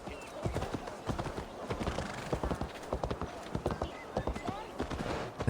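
Rhythmic horse hooves clip-clopping steadily at a close, even pace in the video game Assassin's Creed, with soft background ambience and the occasional faint snort beneath.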